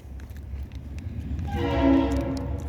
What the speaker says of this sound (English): Hey look, the train.